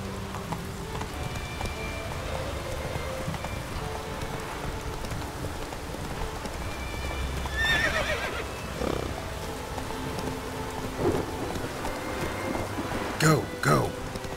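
A horse in the video game The Witcher 3 moves at a gallop through rain, with faint hoofbeats under steady rainfall and sharp whinnies and snorts near the end.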